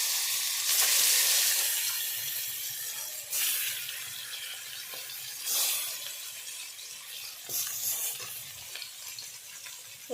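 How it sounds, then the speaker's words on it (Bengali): Pieces of snakehead fish frying in mustard oil in a wok, a loud continuous sizzle and hiss with bursts of spattering as the oil crackles, no voices. "এবারে কড়াতে মাছগুলো ভেজে নিচ্ছি।"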